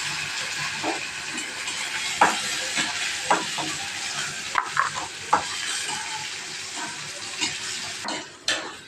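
Steady sizzling of chopped onions frying in hot oil for chicken gravy, with occasional stirring clatters and pops over the continuous hiss.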